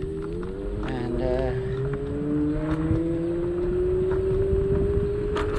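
A Segway Ninebot Max G30 electric scooter is ridden: a steady electric motor whine climbs slowly in pitch as it speeds up, over constant wind and road rumble.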